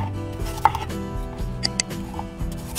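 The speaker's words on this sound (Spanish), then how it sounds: "Luego las vamos a cortar en trocitos pequeños" Knife chopping apples into small pieces on a board for a dessert, a few distinct close chops spaced irregularly over a low background hum.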